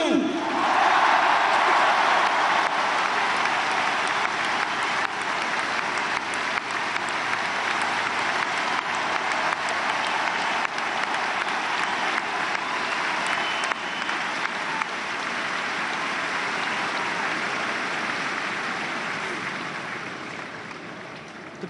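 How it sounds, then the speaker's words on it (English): A large crowd at the 2017 All-Ireland Senior Hurling Final between Galway and Waterford claps loudly and steadily, sustained applause with cheering lasting over twenty seconds before gradually easing. "This man, you have to give him the biggest round of applause for the day, Micheál Donoghue!"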